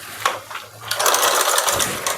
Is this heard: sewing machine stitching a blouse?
yes